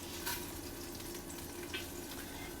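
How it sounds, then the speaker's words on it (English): Meat sautéing in an Instant Pot on the sauté setting gives a steady, soft sizzle that runs unbroken the whole time, with a couple of faint clicks and no voices. "I went ahead and I sauteed my meat"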